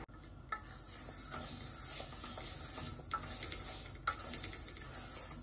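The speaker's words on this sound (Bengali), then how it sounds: "মুগ ডালটা একটু ভেজে নেই।" Mung dal frying in a pan, a continuous soft sizzle with light scraping and stirring throughout, a few sharper clicks mixed in, close but fairly quiet.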